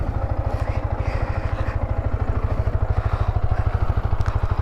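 A 2025 Yamaha MT-15 motorcycle idles up close, its single-cylinder engine thumping in a fast, even pulse throughout the short stretch.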